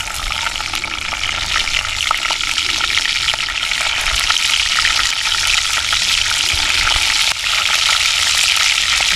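Green chilies frying in hot oil with cumin seeds, outdoors in the wild for a spicy crab fry, giving a loud, continuous sizzle with crackling pops throughout.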